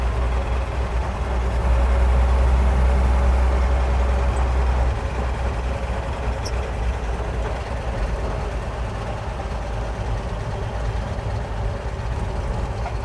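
1946 Chevrolet half-ton pickup driving, a loud steady low engine drone with constant road rumble throughout, heard from inside the truck.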